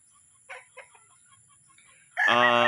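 A young gamefowl rooster, a sweater cross about seven months old, gives a couple of faint clucks and then bursts into a loud, close crow at the end.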